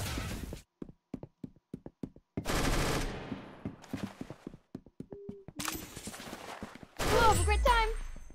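Rapid bursts of gunfire in Roblox Arsenal rattle close and sharp, with separate single shots between them and a voice talking over parts.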